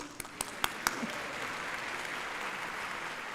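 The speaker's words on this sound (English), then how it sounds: "We're gonna clap for you anyway." Applause from a commencement audience at a medical school graduation, steady and moderately loud, with a few sharper claps near the start and some faint voices mixed in.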